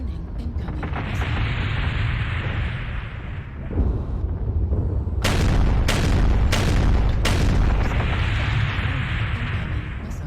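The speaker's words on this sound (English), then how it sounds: "Warning, incoming missile." Heavy booming missile impacts in MechWarrior Online thunder over a low rumbling background, with several sharp, loud blasts clustered in the middle of the stretch.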